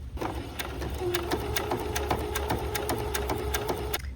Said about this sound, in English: Put the bias tape on there and just stitch it on down.